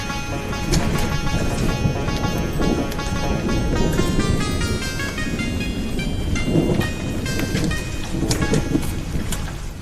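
Steady heavy rain pours down with rolling thunder rumbling through it, loud and continuous for the whole stretch, with music-like tones over it and no talk.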